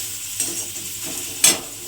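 Ginger paste is stirred into hot oil with garlic in a pan, a continuous close sizzle broken by two sharp scraping clicks of the spoon against the pan.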